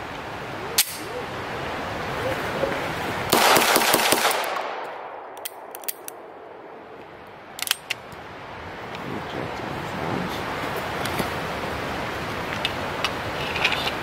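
Shots from a Beretta 92S pistol crack out sharply outdoors, a few separate loud reports including a close burst of rapid shots, with wind noise and passing traffic between.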